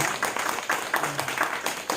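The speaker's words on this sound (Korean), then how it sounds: "박수로 한번 보내겠습니다." A church congregation claps briefly during a Sunday worship service, with loose rhythmic bursts of hand claps at moderate distance, fairly soft and slightly uneven.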